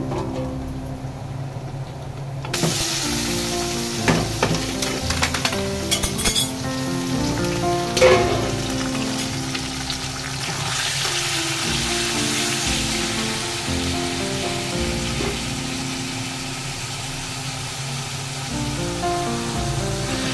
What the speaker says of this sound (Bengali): এই রসুনটার মাঝে আপনি এই চিকেনটা ভেজে নেবেন